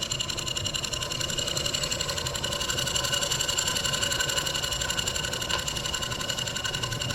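A small German showman's engine runs steadily at close range, giving a fast, even mechanical chatter with a constant whirring hum and no pauses.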